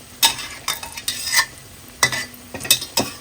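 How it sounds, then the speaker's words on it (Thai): A spatula jabs into a crispy basil omelet frying in oil, making several sharp, scraping strikes at irregular intervals over a faint, close sizzle. "ใช้ตาหลิวเนี่ยเฉาะๆลงไปที่เนื้อไข่หน่อย"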